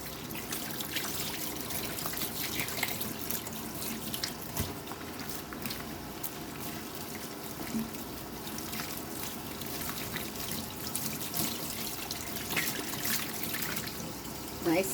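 Water runs steadily from a tap while a peppermint tallow soap bar is rinsed, with a continuous splashing trickle and some handling sounds, and a voice speaks faintly at times.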